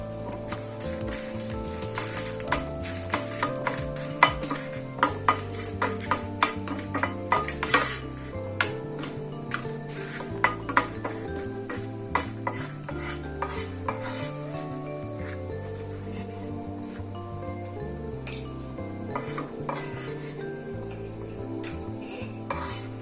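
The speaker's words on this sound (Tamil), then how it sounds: "வத்தல் மிளகாய் போட்டு வறுத்துக்கலாம்." Dried red chillies frying in oil in a pan, with a continuous hiss under frequent metal spoon scrapes and clinks against the vessel, close and fairly loud, with no talk.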